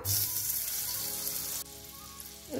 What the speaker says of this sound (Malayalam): നമുക്കിനി പാൻ വെച്ച് ചൂടാവുമ്പോൾ അതിലേക്ക് 1 ടേബിൾ സ്പൂൺ ബട്ടർ ഇട്ട് കൊടുക്കാം